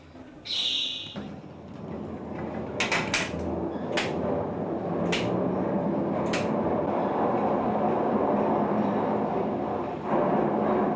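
Cable car machinery near Montserrat starts up with a few sharp metallic clanks, then settles into a steady, loud mechanical rumble and hum that carries on without talk.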